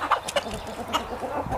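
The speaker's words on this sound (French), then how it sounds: "Je vais mettre le coq noir là-bas avec les poules noires." Chickens cluck in a farmyard flock of black hens with a rooster, short repeated clucks and calls coming in scattered bursts at moderate distance.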